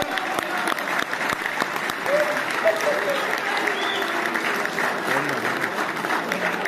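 Crowd at a Hindi patriotic poetry recital clapping steadily throughout, a sustained wash of applause with occasional louder individual claps.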